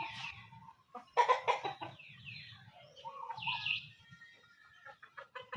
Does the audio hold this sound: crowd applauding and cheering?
no